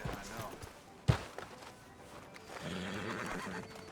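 A horse in Red Dead Redemption 2 gives a whinny, followed by a sharp hoof knock and clip-clop steps in a town street, with talk over part of it.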